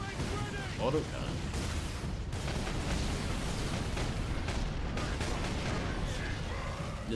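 Auto cannon fire in the Warhammer 40,000: Space Marine video game, a dense, continuous roar of heavy rapid shots and blasts that fills the whole stretch at high, steady loudness.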